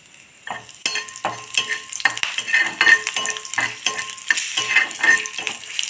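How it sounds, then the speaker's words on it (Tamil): Two green chilies sizzle in hot oil with fried cumin for karunkuruvai rice kanji: a loud, continuous frying hiss, stirred with rapid spoon scrapes and taps against the pan. "இப்போ நம்ம பச்சை மிளகா ரெண்டே ரெண்டு போட்டுக்கலாம்"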